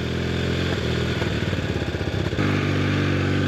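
A Honda CB450T motorcycle engine runs just after a kick start, a close, loud steady idle with a brief lumpy, uneven patch midway before settling back to an even drone.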